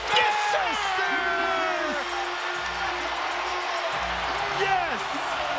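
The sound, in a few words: NBA arena crowd cheering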